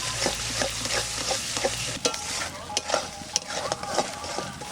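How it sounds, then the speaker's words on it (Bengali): Spices with cashews and yogurt frying in a pan, a bright sizzle under quick scraping stirs that tap against the pan in an uneven rhythm, close and alone without speech. "সব মশলা কষানো হয়ে গেছে।"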